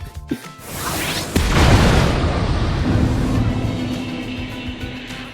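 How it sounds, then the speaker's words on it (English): A cannon shot fired in the video game Tears of the Kingdom: a sharp click and then a loud, rolling boom that holds and slowly tails off, with a low steady tone under the decay. "you can hold the R button to aim your cannon shots a lot more precisely compared to putting it on a shield"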